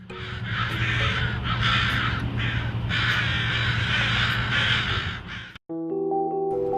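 A flock of crows around a dead crow caws harshly and continuously, with many overlapping loud calls in rough bursts, then cuts sharply to a different, tonal sound near the end.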